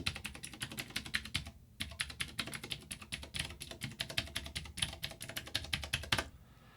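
Keys clack rapidly on a Vortex POK3R RGB mechanical keyboard, close and crisp, in two bursts of fast, uneven typing separated by a brief pause, with no talking.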